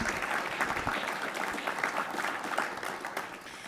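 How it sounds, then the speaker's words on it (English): An audience at a veteran entrepreneurs forum applauds the moderator, steady dense clapping throughout, fairly quiet and heard from a distance without talk. "Let's give one more round of applause to Dr. Hyde for his wonderful moderation."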